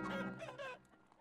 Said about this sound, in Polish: O nie, no i te kury. Te kurczaki atakujące.